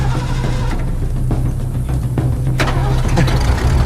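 A video game truck engine rumbles steadily at a low idle throughout, with a few sharp clanks and knocks over the running motor.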